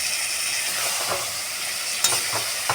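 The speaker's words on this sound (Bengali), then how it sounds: "ভালো করে আমি কষাবো ভালো করে আমি কষিয়ে নেব" Masala paste for a large prawn curry being stirred and fried in a pan, a steady dense sizzle with occasional scraping strokes of the spatula throughout.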